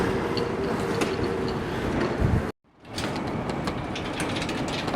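A London Underground train at Willesden Green station rumbles and clatters loudly with mechanical rattles, broken by a brief cut to silence before the noise resumes.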